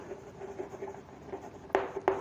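A marker scratching across a board while writing notes, soft steady squeaky strokes close by, ending in two sharper louder squeaks near the end, with no talking.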